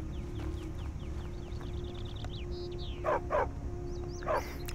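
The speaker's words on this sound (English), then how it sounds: "I do like the dogs, but in Skyrim they're a little bit too noisy for me." A hunter's dog barks in the video game Skyrim VR, with several sharp close barks over a steady ambient hum and fowl-like clucking in the background, no talking.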